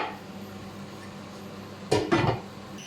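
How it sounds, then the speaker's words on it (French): Metal lid set down onto a cooking pot in a kitchen, two quick clanks close by after a quiet stretch of faint background hum. "Et je couvre avec un couvercle"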